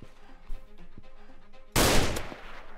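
A sniper rifle fires once in the Roblox game Notruf Hamburg. A few faint clicks come first, then one loud, sudden blast that lingers in a roaring, slowly fading tail.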